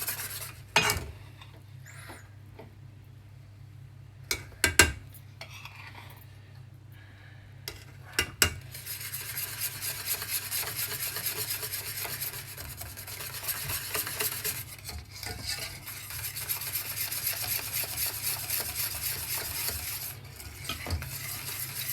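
Chocolate sauce is stirred in a pan over medium heat to work out lumps, giving a steady close scraping and swirling that grows denser after a few sharp clinks of the utensil against the pan.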